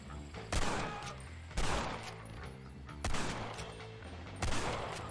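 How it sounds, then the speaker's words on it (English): Enemies firing guns in the Red Dead Redemption video game: four separate bursts of gunfire spaced about a second and a half apart, each with a sharp onset and a rumbling tail, fairly close, with no talk. "Oh, they've already started shooting."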